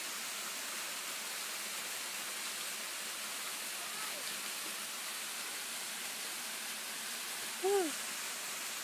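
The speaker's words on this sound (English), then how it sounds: "I hear that water rushing." Waterfall on Juney Whank Falls trail in the Great Smoky Mountains rushes steadily, a dense hiss of falling water holding even throughout, with a brief faint squeak near the end.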